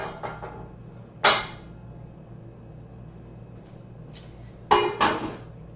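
A skillet grabbed and handled in a home kitchen: a few sharp metallic clanks and clinks, one early knock, then two loud clattering bangs near the end, close and otherwise quiet.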